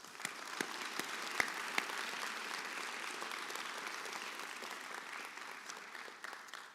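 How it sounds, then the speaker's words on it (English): An audience at a medical school commencement ceremony applauds in a soft, distant, sustained wash of clapping, with a few sharper individual claps standing out near the start. "Class, I ask you to please join me in applauding and appreciating all of those who supported and helped you along the way"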